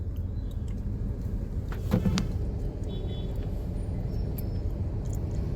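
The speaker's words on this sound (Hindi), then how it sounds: "अब आगे रेड लाइट है जिसकी वजह से थोड़ा सा ट्रैफिक है यहाँ पर।" Road traffic idling and creeping at a red light on a city street, a steady low rumble of engines with a brief clatter partway through and faint higher mechanical sounds.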